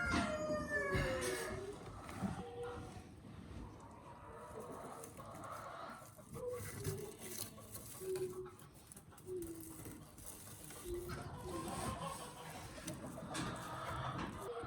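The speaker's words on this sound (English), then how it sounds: "You chickens better get out of here." Chickens clucking and squawking nearby, a busy mix of bird calls over a rough outdoor background.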